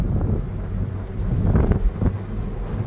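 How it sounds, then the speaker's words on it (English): Strong wind buffets the microphone while driving a Toyota MR2 MK3 with the top down, a loud, gusty rumble with surging blasts and no speech. "You can see how windy that is and how much that really throws the wind up."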